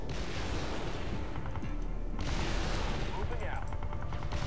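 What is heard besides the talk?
gunfire in the video game Halo Wars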